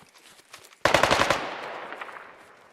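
Paintball markers fire during a woodland paintball match as a quick burst of about ten rapid, loud shots, then a fading echo, after a few faint distant pops.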